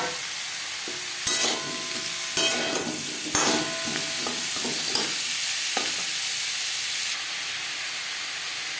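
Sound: potatoes frying in hot refined oil

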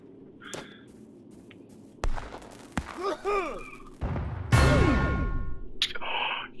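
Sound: cannon fire in a video game

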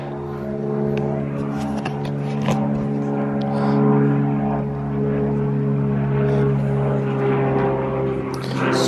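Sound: propeller plane flying overhead

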